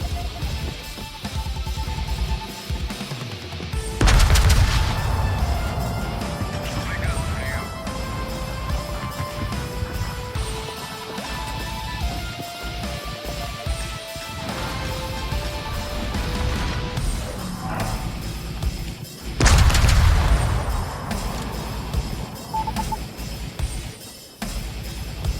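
Large-caliber guns of the Vermont fire in a naval video game, two heavy booming blasts several seconds apart over continuous game music and background rumble.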